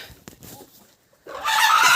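A chicken clucks close by, followed by a loud, sustained rooster squawk that starts abruptly and holds to the end, on a poultry farm with ducks and young roosters.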